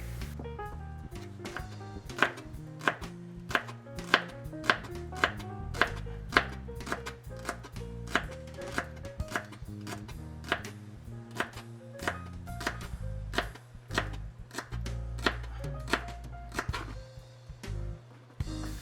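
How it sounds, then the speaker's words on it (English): A knife chops steadily through a stalk of celery on a cutting board, with rapid, evenly spaced taps close up and no talking. "Starting with 1 stalk of celery, thinly sliced."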